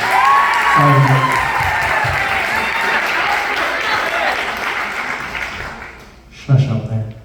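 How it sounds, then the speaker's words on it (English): A crowd at a marching band celebration claps and cheers steadily, partly under a speaking voice at first, then the applause tapers off before a voice resumes. "can we give them a round of applause?"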